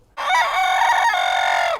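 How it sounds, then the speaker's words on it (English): A black Ayam Cemani rooster crows once, a single loud, close, sustained call of about a second and a half with no talk over it. "he's our resident big man rooster right there"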